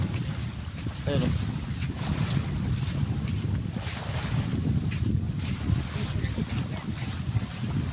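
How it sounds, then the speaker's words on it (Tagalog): A boat out on cold sea water near an island, with steady wind buffeting the microphone and washing waves under a continuous low rumble; a voice speaks briefly. "Nandun yung isang bangka namin, no?"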